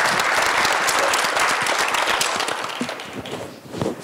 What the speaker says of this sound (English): So Lisa, please give her a round of applause